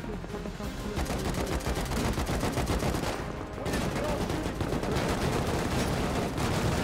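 Rapid, sustained gunfire from a 100-player manhunt event in a video game, dense automatic bursts running nearly the whole time, loud and close, with a brief lull midway and faint voices underneath.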